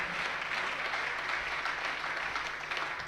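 Audience applause at a Jain religious discourse, a dense steady clapping from a crowd that continues evenly throughout without pause, fairly loud and close.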